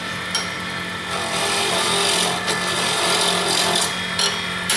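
A wood lathe spins an inlay blank with a continuous motor hum and tonal drone, while occasional light scraping and knocking contacts rise over the steady whir, close and moderately loud.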